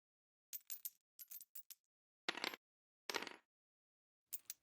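Several bursts of dice clattering and tumbling across a hard surface for a tabletop roleplaying perception roll, close and crisp, in quick clusters separated by silences, with no talk.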